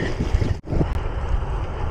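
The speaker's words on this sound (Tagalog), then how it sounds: "Ang lakas ng hangin." Strong wind buffeting the microphone during a gravel bike race, a steady loud rumbling roar with one brief dropout.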